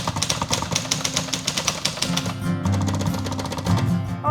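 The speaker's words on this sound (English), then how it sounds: "Lovely Tom Hanks typewriter that anybody can type on if they want." A manual typewriter at a Chicago typewriter shop, linked to Tom Hanks, clacks as someone types. Quick, evenly spaced keystrokes sound close and crisp at first, then blur under a steady mechanical hum.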